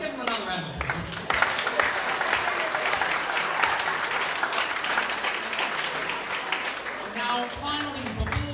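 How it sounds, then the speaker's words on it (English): Audience applause fills a student awards night hall, steady sustained clapping from a large crowd lasting several seconds, loud and close, with a few voices and cheers mixed in before it fades. "Let's give them another round of applause."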